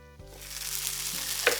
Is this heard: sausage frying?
yes